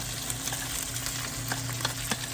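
Leftover cooked rice and scrambled egg stir-fried in a hot pan for Thai fried rice give a continuous loud sizzle, with a spatula scraping and tossing at irregular intervals and no talking.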